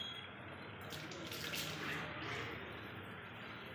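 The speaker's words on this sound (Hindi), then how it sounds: "मोटर चला ले फिर सही पानी आएगा।" Water runs steadily from a tap in a home, a continuous hiss filling the whole stretch, with faint voices in the background.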